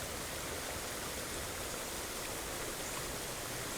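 Rushing, raging water with no lip, heard as a continuous, dense, loud roar that stays steady throughout.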